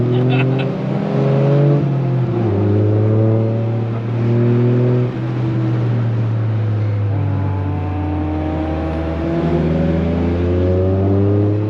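A powerful car engine revs and pulls hard, the pitch climbing through gear after gear in long sustained surges, loud and close throughout.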